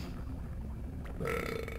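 A single short burp rises near the end, following a quiet stretch of low background noise.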